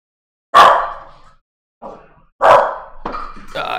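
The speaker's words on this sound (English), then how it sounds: "My bad about the dogs in the background." Dogs bark in the background of a live basketball broadcast commentary, several sharp, loud barks spaced irregularly, each ringing out briefly, with no speech.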